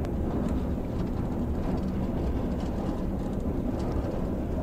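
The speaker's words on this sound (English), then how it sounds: "Can't even hear the commentator over the noise the train's making." Heavy British Rail freight train in the Train Sim World game, running with a loud, steady rumble and rattle of wagons that fills the whole stretch without a break.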